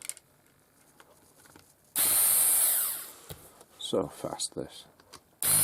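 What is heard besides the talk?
screws being removed from Roberts Revival R250 radio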